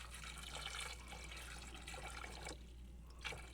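Water pouring steadily into a cooking pot inside a van in the Rocky Mountains, a soft continuous splashing flow, fairly quiet and close, with no speech.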